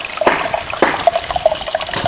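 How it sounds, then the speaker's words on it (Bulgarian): Water swirls and churns steadily through a gold concentrator, a continuous sloshing rush with small splashing peaks close by and no talking over it. "Самата скорост за вихрането на водата, която се върти през самия концентратор."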